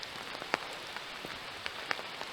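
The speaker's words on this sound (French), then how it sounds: "Il a recommencé à pleuvoir." Light rain falling on a forest trail, scattered drops tapping the leaves and ground in an uneven patter over a steady soft hiss, close by and fairly quiet.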